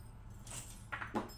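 A set of tryout keys jangles in two quick metallic bursts, close by and alone over a low steady background hum.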